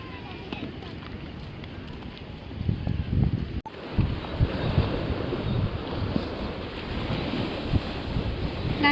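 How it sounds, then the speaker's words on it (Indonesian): Wind buffets the microphone over the steady roar of ocean surf at Camplong beach, a continuous rough rush with a brief dropout partway through. "kita sekarang ada di Pantai Camplong"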